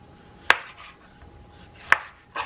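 A kitchen knife dices tomatoes on a cutting board for jambalaya pasta, giving three sharp, close chops spaced well apart with quiet pauses between them.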